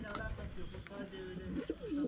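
Pigeons coo in a pigeon loft in Ankara, with soft repeated rolling calls close by and murmured voices mixed underneath.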